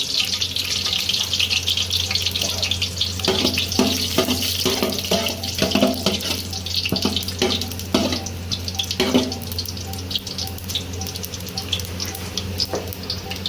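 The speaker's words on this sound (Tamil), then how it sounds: "எண்ணெய் நல்லா காஞ்சிருச்சு. இப்போ அந்த சோம்பு, பட்டை, கிராம்பு, தாளிக்கிற பொருள் எல்லாத்தையும் ஆட் பண்ணிக்கணும்." Steady crackling sizzle of whole fennel seeds, cinnamon and cloves frying in hot oil, with bursts of popping and a few clinks, continuous throughout.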